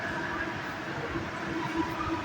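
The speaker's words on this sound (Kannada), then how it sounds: "ಇಲ್ಲೊಂಜಿ ಟ್ರೈನ್ ಪೋಂದುಂಡು" A train rumbles past at moderate distance, a steady low roar with faint squeals, continuous throughout with no talking.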